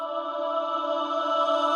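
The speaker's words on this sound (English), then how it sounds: "taking just the first word of the vocal, adding some reverb, recording that, and then reversing it" The first word of a vocal, reverbed and then reversed, serves as an afro house remix accent: a continuous, hazy sustained wash that holds steady and fairly loud, with no voices over it.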